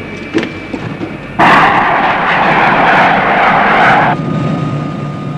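A 1960s military jet engine spools up abruptly for an immediate scramble takeoff, a loud broad roar cutting in after a brief lead-in and holding steady for several seconds before easing slightly.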